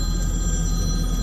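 A mobile phone rings steadily beside a 2023 Kubota SVL97-2 compact track loader, a continuous electronic trill over a loud, constant background hum.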